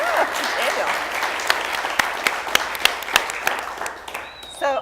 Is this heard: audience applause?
yes